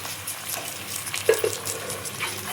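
Ginger garlic paste and onions fry in a pan, a soft continuous sizzle with a few light crackles and stirring scrapes, close by and with no speech.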